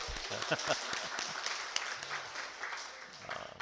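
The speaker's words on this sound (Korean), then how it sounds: "네, 박수 치세요." A church congregation at a Sunday Advent worship service claps briefly, a short patter of scattered hands that fades quickly.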